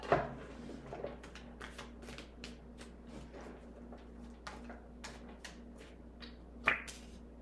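Tarot cards are shuffled quietly at close range, with quick soft riffling snaps and taps in an irregular stream. A louder slap comes near the end over a faint steady hum.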